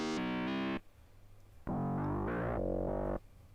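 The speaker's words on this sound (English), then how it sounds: "VCO2 sine wave feeding into VCO1 and having an FM effect on the pitch" Synthesizer tones from an Arturia ARP 2600-V, a VCO2 sine wave frequency-modulating VCO1's pitch for a buzzy, metallic FM character, played as a couple of sustained held notes and a short stepping phrase, separated by a brief pause.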